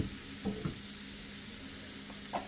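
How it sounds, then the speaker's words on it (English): Butter and blackened seasoning simmer in a pan with a steady, fairly quiet hiss and sizzle, broken by a few soft clinks and stirring taps. "We're just gonna let that simmer right there a little bit. Get all that butter going."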